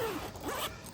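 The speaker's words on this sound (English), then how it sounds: "it's got a zipper on either side. You can unzip that" A single quick zip as a zipper on the side of a Hisun UTV soft enclosure is pulled open, close and clear with no voices.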